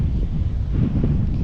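Strong wind buffets the microphone outdoors on a fishing trip, a loud continuous low roar with gusty rumble filling the whole stretch, no voices.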